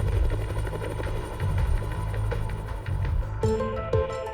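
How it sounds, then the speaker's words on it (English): A helicopter flies control flights over an Alpine landslide and rockfall site, its rotor giving a continuous close, loud throbbing drone that holds steady throughout, without speech. "Control flights via helicopter show freshly torn crevices above the enormous tear-off edge."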